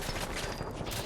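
Dense gunfire from Fallout 4 combat, a continuous loud barrage of overlapping shots filling the whole moment with no pause.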